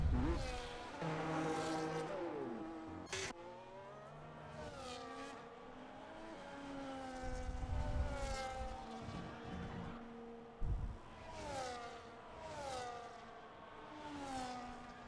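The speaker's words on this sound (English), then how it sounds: "we do have a McLaren coming over the line right now" A McLaren F1 car in F1 25, its high-pitched engine revving and shifting through gears as it crosses the line, loud and close, with repeated rising and falling pitch sweeps and brief tire squeal.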